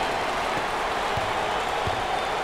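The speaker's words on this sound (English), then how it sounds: "Listen to the crowd." A crowd in a basketball arena at an NCAA college game at Kansas roars in a dense, steady wash of loud cheering with no pauses.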